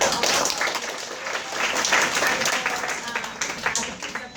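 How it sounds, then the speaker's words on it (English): Audience of students and guests at Ateneo University in Manila applauding a panel of advocates, a lively round of clapping that swells and wavers with scattered sharp claps and a few cheers and voices mixed in. "big round of applause for all of"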